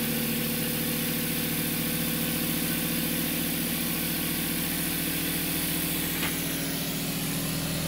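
An Adams motor running at speed gives a steady electric whine with a low vibrating hum underneath, holding constant and close with no voices.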